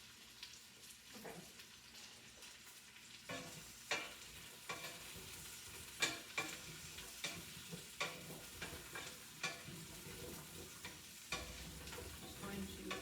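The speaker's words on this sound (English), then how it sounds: "Just going to saute that down. And use a wooden spoon. You want to kind of scrape the bottom of the pan" Beef stew sautéing in a pan while a wooden spoon scrapes the bottom, a steady sizzle under repeated scraping strokes that come every second or so, fairly close but quiet, no talking.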